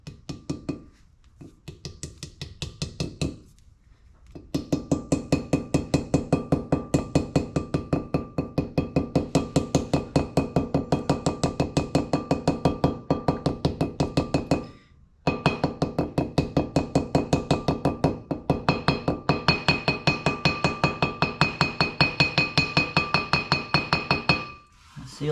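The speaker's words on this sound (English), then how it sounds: "I'm gonna just start very carefully driving the seal" Hammer blows on a seal driver pressing a wheel bearing seal into a Chevrolet C10 hub: rapid, evenly spaced metallic knocks in long runs, close and loud, broken by a few brief pauses.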